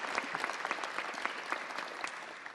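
An audience at a Los Angeles Metro press briefing in Union Station applauds. The clapping is even, moderately faint and continuous with no speech over it.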